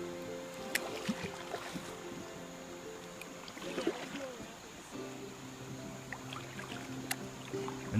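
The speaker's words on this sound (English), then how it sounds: "we're going to enjoy a nice kayak ride" Kayak moving along a river with faint water and paddle splashes under a steady low hum of wind and current, a few soft knocks scattered through; no talking.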